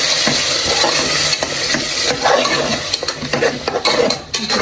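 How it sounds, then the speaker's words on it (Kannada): A spinach and egg biryani mixture with ground paste is stirred and fried in a pan, giving a continuous sizzle broken by repeated scraping strokes of a spoon against the metal, close and fairly loud, with no voices. "ನೀಟಾಗಿ ಎಲ್ಲ ಮಿಕ್ಸ್ ಮಾಡ್ಕೊಳ್ಳಿ"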